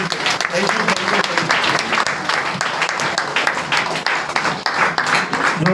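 Loud, sustained applause from a seated audience at an educational seminar, many hands clapping in a dense continuous roar with some faster rhythmic bursts, lasting several seconds with voices faintly underneath.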